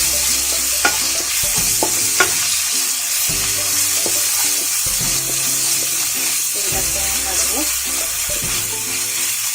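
Garam masala paste of cardamom, cloves, cinnamon and cumin sizzles steadily in a hot pan for chicken tehari, with repeated scraping stir strokes in an irregular rhythm, close and fairly loud.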